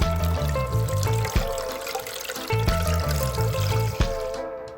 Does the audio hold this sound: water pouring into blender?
yes